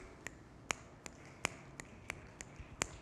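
People snapping fingers and rubbing hands to imitate light rain, a soft hiss with sparse, scattered snaps at an unhurried, irregular pace, quiet and close, with no voices.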